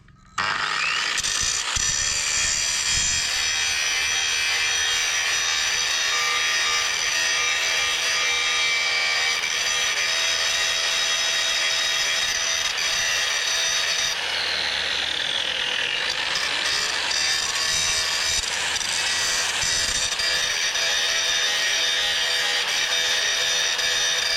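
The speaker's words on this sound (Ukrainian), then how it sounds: "Вдягнув зачисний оцей товстий круг на болгарку, тримаю і заточую." An angle grinder with a thick grinding disc whines continuously against a metal auger blade being sharpened, a harsh high-pitched grinding that shifts in pitch as pressure changes, close and loud throughout.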